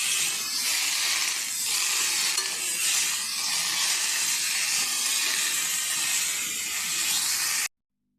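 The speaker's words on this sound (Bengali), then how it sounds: "হালকা একটু ভেজে নিয়ে" Broccoli and fish lightly frying in a pan with turmeric for a Bengali fish curry, giving a steady bright sizzle with faint stirring scrapes throughout before cutting off abruptly near the end.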